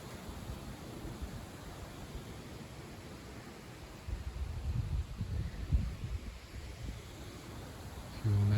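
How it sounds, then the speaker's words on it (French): Sudden wind gusts of about 50 km/h rise on a cold April evening as a spring squall moves in. A steady broadband rushing grows noticeably stronger about halfway through. "Et là, le vent se lève, il n'y avait pas de vent. Et d'un seul coup, on a déjà des rafales à 50 km/h."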